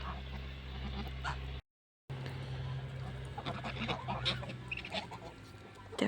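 Honking and cackling geese close by, several calls overlapping in irregular bursts, with a brief silent gap early on.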